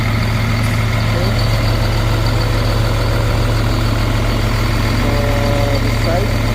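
The engine of a CAT 950H wheel loader idles after repair with a steady, loud diesel rumble, close by and constant, while a person talks over it.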